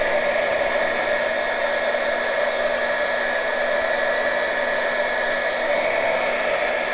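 A hot-air heat tool runs nonstop beneath a beeswax-coated junk journal cover piece, a loud, even rushing hiss with a steady tonal whine, heard alone throughout.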